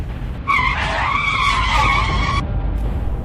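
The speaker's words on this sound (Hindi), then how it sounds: "बुल्ली एकदम ब्रेक लगाता है" A cartoon car brakes suddenly, giving a loud, sustained tire skid squeal of about two seconds that bends in pitch before cutting off, with no talk over it.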